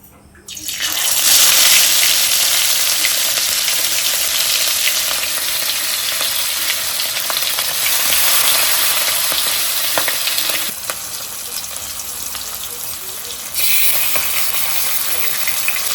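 Fish sizzles loudly in hot oil in a kadai, a dense crackling hiss that starts abruptly as the pieces go in and continues steadily, briefly easing before rising again, with no talking.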